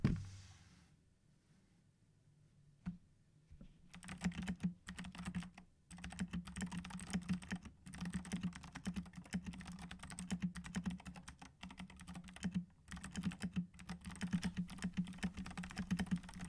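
A mechanical keyboard with clicky Gateron Blue switches sits on a mousepad and is typed on steadily after a short quiet start, giving dense, close, bright clicks with brief gaps.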